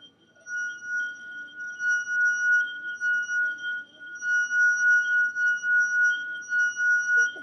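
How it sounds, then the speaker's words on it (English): A finger dipped in vinegar rubs around the rim of a drinking glass, making it sing with a pure, sustained ringing tone that pulses gently in loudness with each circling stroke, clear and close with no voices. "when I take my finger that has been dipped in vinegar and I rub it around the edge"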